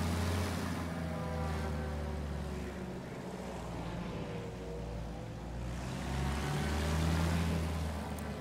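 Boat engine in Battlefield 1 while steering on water, a low, steady motor drone with swirling water and wash sounds that swell and ease as the boat turns.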